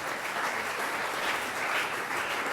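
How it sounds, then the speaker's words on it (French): An audience applauds steadily throughout, a dense, continuous wash of clapping with no voices heard. "On peut applaudir quand même un moment."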